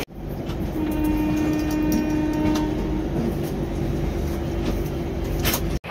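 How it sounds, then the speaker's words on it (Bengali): Mumbai to Howrah Mail train pulling into Santragachi station, a loud steady rumble of wheels and carriages with metallic squeals and clanks, ending in a brief thump. "এখন বাজে 12টা, আর সাঁতরাগাছি ঢুকলো ট্রেন।"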